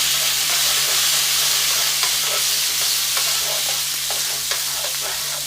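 Minced garlic searing in olive oil with red pepper flakes in a cast iron pan, a steady close sizzle and hiss throughout with a few faint clinks of stirring, no voices.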